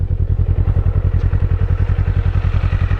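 A new 2024 Kawasaki Eliminator 450 with its stock exhaust pipe and only 69 km on the odometer idles up close, giving a loud, steady stream of rapid, even low thumps.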